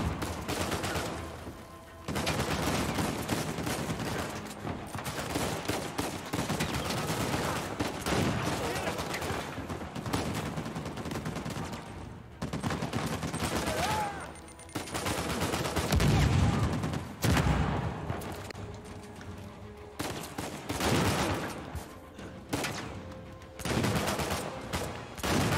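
Repeated gunfire bursts in Uncharted 4 from enemies blind firing from cover, loud volleys broken by brief pauses across the whole stretch, with no talk over them.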